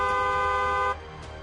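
A vehicle horn sounds in one sustained, loud, tonal blast lasting just under a second, then cuts off, leaving faint road noise.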